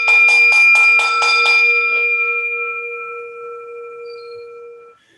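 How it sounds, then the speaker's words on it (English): A bell struck rapidly about six times at the start of the Refuge Chant in a Buddhist service, its clear ringing tone then sustaining and slowly fading out alone over several seconds. "I get to ring this bell really quickly"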